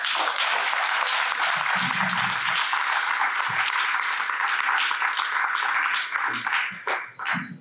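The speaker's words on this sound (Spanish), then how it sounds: "un fuerte aplauso para ellos" Dense, loud audience applause at an alumni gathering, steady for several seconds before thinning out as a few voices come in.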